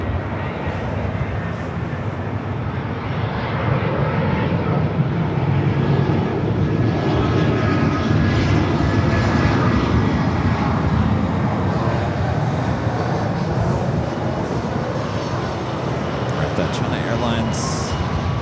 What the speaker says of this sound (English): 777 took off on the south side